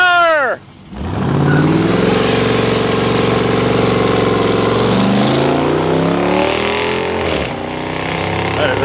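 Hemi V8 engine on a muscle car at a car show revs hard, a loud close roar that climbs and holds, dips briefly and surges again, with a crowd murmuring faintly.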